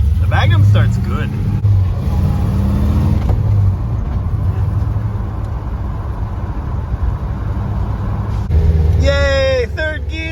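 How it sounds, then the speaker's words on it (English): A Dodge Magnum's engine fires up and settles into a steady, loud running rumble, with a second rev near the end; a person speaks over the engine at the start. "The Magnum starts good."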